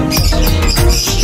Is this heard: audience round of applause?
no